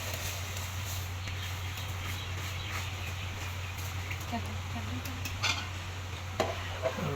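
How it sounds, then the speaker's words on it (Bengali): Beef biryani with rice is stirred in a large pot, giving faint scraping and a few metallic clinks over a low steady hum, with voices talking nearby. "এই যে লাড়াচাড়া দিচ্ছি"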